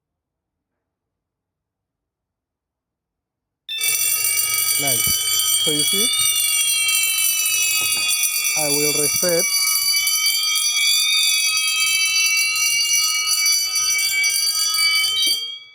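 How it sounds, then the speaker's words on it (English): A Hikvision conventional fire alarm bell, set off from a manual call point during a panel test, rings loud and continuous with a warbling tone once it starts, while someone talks over it. "I'll just mute the alarms simply because it's too loud."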